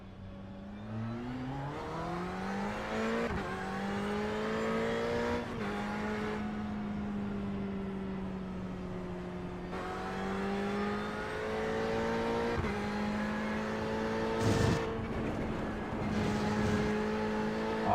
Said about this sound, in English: Yeah, I'm in a Ferrari now. The 488. This is a GTE car.